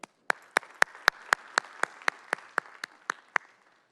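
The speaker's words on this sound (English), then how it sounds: "give yourself a round of applause for the public participation here today" Rhythmic unison clapping at a city meeting, about fifteen sharp, evenly spaced claps ringing out close and clear, tapering off at the end.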